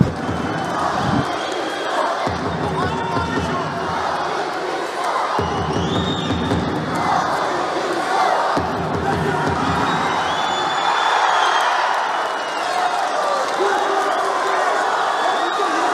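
Crowd noise at a judo Grand Slam gold medal contest in Dushanbe, a continuous broadband roar of spectators with rising cheers and shouts, steady and loud throughout with no clear speech.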